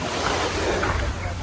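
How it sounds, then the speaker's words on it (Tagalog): Sea waves splash and wash onto the shore of Samal Island, a steady broadband roar mixed with wind buffeting the microphone, close and continuous without a break. "makarinig ng mga hampas ng tubig dagat"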